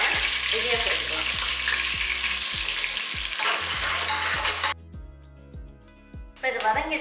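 Sliced onions for coconut milk mutton dum biryani sizzle in a pan, a steady frying hiss broken by regular scraping strokes of a stirring spoon, with a brief quiet gap before the sizzle returns.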